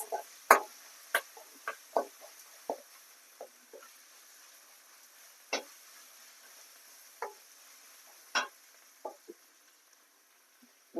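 Onions and ginger paste frying in a pan, heard as quiet sizzling with scattered soft clicks and taps of a spoon in a calm setting.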